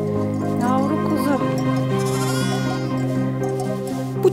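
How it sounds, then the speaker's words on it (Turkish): A small lamb bleats in a flock in the Ordu countryside of Turkey, giving a short wavering call over a continuous tonal background. "Yavru kuzu."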